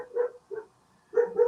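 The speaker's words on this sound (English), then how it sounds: "That's Flower barking." A dog barks several times in quick bursts, close by and fairly loud, with short pauses between barks.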